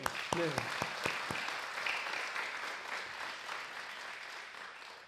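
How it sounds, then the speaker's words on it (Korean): Congregation applauding during a church sermon, steady clapping running throughout with brief voiced sounds near the start layered over the opening seconds. "우리 설교 시간이지만 박수 한번 해요."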